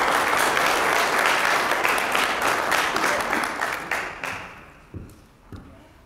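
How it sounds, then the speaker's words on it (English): Audience applause at the M.A.I.N. Summit 2017 conference: a dense, loud burst of clapping from a seated crowd that thins out over several seconds, ending in a few scattered claps. "could we please give them a round of applause?"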